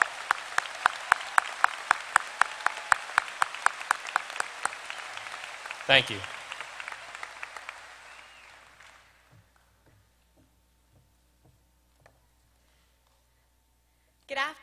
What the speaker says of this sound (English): Please give these students a well-deserved round of applause.